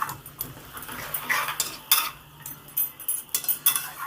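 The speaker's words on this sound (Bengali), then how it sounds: "চিনিটা দিয়ে একটু নেড়ে চেড়ে দিলাম" A spoon stirs vegetarian eggplant curry with sugar in a pan, giving irregular close metallic scrapes and clinks over a steady low background hum.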